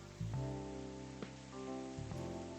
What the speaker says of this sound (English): It's just like really distracting to hear the rain so loud.